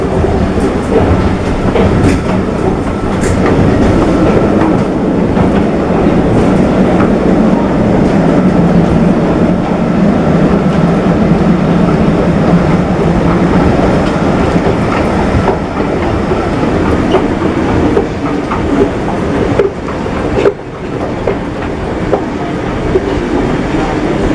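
A French commuter train rolls along the rails toward Versailles, a loud continuous rumble with rhythmic clickety-clack of wheels and occasional metallic squeals, heard from inside the carriage.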